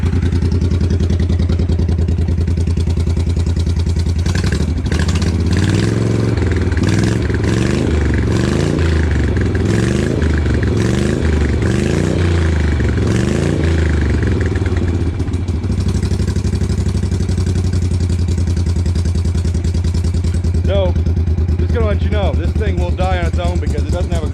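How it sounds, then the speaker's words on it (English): An Italian Moto Guzzi V-twin motorcycle, over 50 years old and neglected, idles as it warms up after sitting unused. It gives a loud, steady low rumbling drone with a loping pulse, close by and running throughout. "I come out and start it up, but it hasn't run in a while, so I'm gonna let it kind of warm up"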